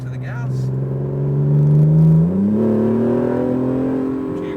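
An Acura NSX engine drones loudly on a race track, holding a steady note, then rising sharply in pitch as the car pulls back onto the throttle, heard from inside the car.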